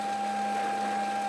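A lathe facing the end of a flywheel in a model engine build produces a steady, continuous tonal hum with a bright whine, unbroken throughout.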